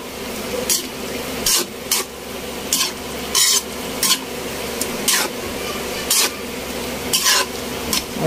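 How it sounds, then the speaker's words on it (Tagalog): Chayote is stirred as it fries in a pan, giving a steady bed of sizzle broken by repeated scraping strokes of the utensil, close and fairly loud with no talking. "halu-haluin lang natin"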